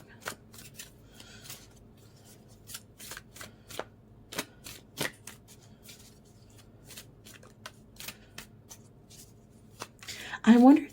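Tarot cards shuffled by hand in a run of crisp riffling bursts and soft slaps, close and fairly loud, with a louder clatter of cards near the end.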